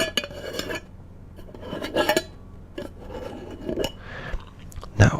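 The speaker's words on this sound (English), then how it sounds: "which is the unscrewing of a candle." A Bath & Body Works mahogany teakwood scented candle lid being unscrewed, giving scattered close scraping and rasping twists with small metallic clinks, alone without talk.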